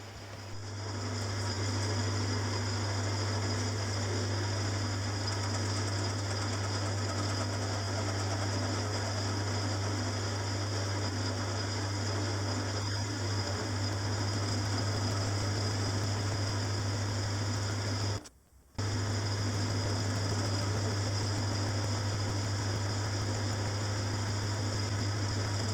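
Lathe running steadily while turning a cylinder end cover for a Stuart Progress oscillating engine, a constant motor hum with a faint cutting hiss that briefly stops near the end before resuming.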